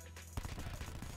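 In-game gunfire in Black Ops 4 aimed at a UAV during an Arms Race team deathmatch, a quiet burst of rapid rattling shots starting abruptly after a brief lull.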